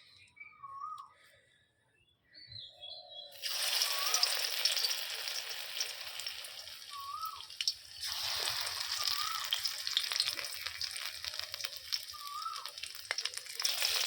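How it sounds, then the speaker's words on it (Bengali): Lentil fritters (bora) frying in hot oil, a close crackling sizzle that starts suddenly after a quiet opening with birds chirping, dips briefly, then resumes steadily while birds keep calling in the background. "ভাজা হোক, এটা সুন্দর হচ্ছে"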